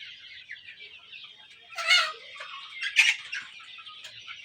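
Farm chickens cluck and squawk close by, a scattered run of calls with two louder bursts over a quiet background.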